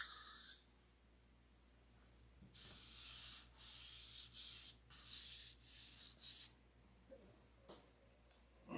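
Sanding a primed, painted surface by hand, with a run of soft, close, rhythmic rasping strokes in the middle, a few brief scrapes around them, and quiet pauses.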